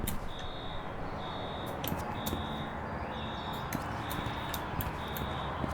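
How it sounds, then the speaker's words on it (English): An alarm goes off in the video game Infra. It gives a steady run of short, evenly spaced electronic beeps over a dense background hum, at moderate loudness. "Oh, and that triggers the alarm"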